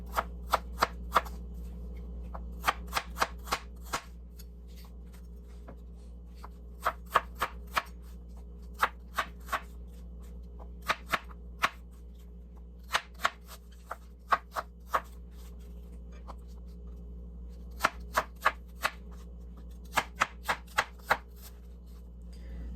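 A knife cuts through apples on a board for an apple crisp, sharp crisp chops coming in quick clusters of several strokes with short pauses between, close and clear over a faint steady hum, with no talking.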